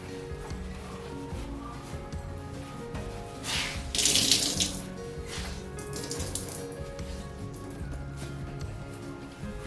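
Running tap water splashes steadily into a sink while a shirt is rinsed, growing louder and more spattery for a moment midway, then settling back to a gentle flow.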